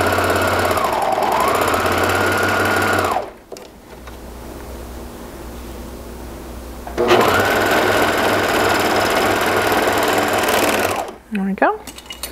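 Domestic sewing machine stitching elastic onto a single skirt layer, a loud fast whirring buzz in two long runs separated by a short pause, then brief handling noise at the end.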